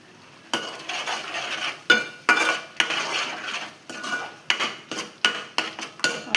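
A spoon repeatedly scrapes and clanks against a pan while coriander powder, biryani masala and black pepper are stirred together for egg biryani, giving a series of sharp, rhythmic strokes with short pauses between them.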